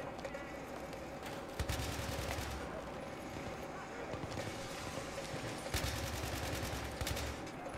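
Gunfire in the video game Battlefield 3, cooperative play on PS3: bursts of rapid automatic shots in short strings, fairly quiet, with game ambience throughout.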